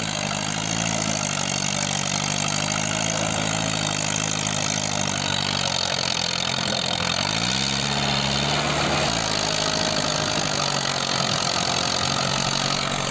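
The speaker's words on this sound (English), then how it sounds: "The engine roars under strain, mud splashes from the tires, and the tractor inches ahead." A heavy tractor engine rumbles continuously and loudly, its pitch rising and falling as it labors under a heavy load of logs in mud and a frozen river, with no voices.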